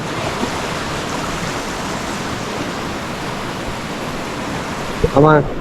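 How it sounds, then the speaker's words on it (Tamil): Steady rushing water flows loudly and continuously beneath a bridge, a broad wash of noise; a brief voice cuts in near the end. "ஒரு பாலம் மேலே, கீழே வந்து இந்த மாதிரி தண்ணி போயிட்டுருக்கு"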